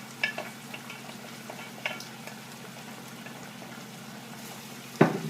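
White wine and fresh garlic simmering in a pan of Cuban-style albondigas meatballs, with a soft, steady bubbling hiss, a few light clinks, and a sharper clatter near the end.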